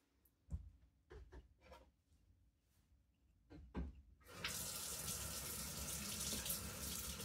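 A kitchen tap gushes steadily for the last three seconds while a spoon is washed under it, after a few scattered knocks and rubbing sounds at the sink.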